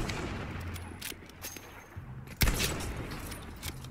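Gunfire in the video game Battlefield V: bursts of shots, with one loud sharp crack near the middle standing out above a busy battle background.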